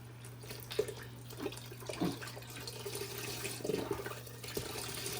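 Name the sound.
broth being poured into a pot for chicken soup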